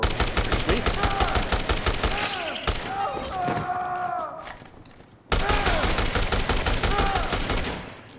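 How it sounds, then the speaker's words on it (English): Rapid machine gun fire in the Dead Rising Deluxe Remaster video game, with loud continuous bursts and a brief pause in the middle where a voice and game sounds come through before the firing resumes. "If we didn't have the machine gun, we would honestly be so doomed right now"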